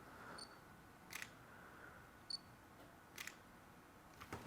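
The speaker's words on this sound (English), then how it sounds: "I love that shutter sound." A Lumix GH5 camera fires its shutter for still photos: four short, crisp clicks spaced about a second apart, faint against a quiet room hiss.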